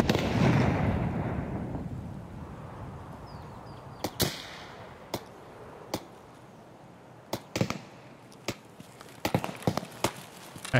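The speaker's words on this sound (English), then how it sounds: "I heard your shot." Sharp gunshot cracks in the video game Escape from Tarkov, a loud opening burst followed by a dozen or so shorter reports at irregular intervals, some in quick clusters, over a fading low rumble.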